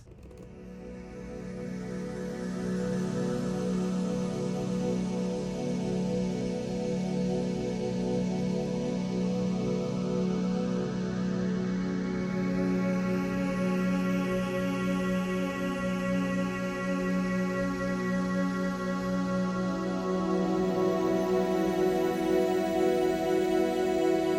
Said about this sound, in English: some pads that are just, again, very shimmery and ethereal and magical